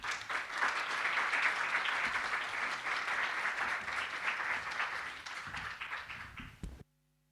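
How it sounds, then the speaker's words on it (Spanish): Applause from the audience at a launch event in Chile, steady and dense for about seven seconds from many hands in a room, tapering slightly before stopping abruptly. "Les invitamos a recibirlos con un fuerte aplauso."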